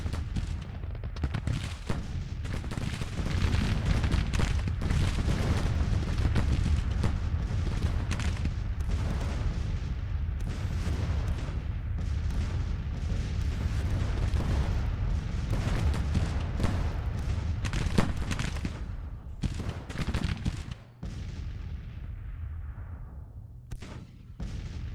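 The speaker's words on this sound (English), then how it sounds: "This artillery battalion" Civil War artillery and musketry in the video game Grand Tactician: The Civil War at Fredericksburg, a dense, continuous barrage of booming cannon shots and crackling gunfire rolling on for the whole stretch, distant and rumbling, with no talk.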